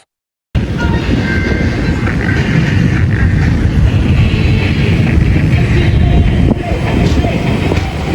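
A train rolls along the rails with a loud, steady rumble and faint clacking, starting abruptly after a short silence.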